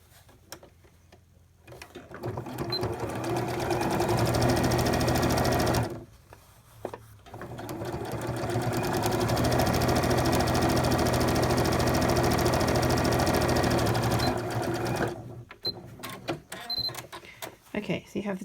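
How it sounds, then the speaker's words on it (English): A sewing machine stitches the hem of a pleated fabric face mask, whirring steadily in two long runs separated by a brief pause, close and fairly quiet. "a couple of back stitches and finish"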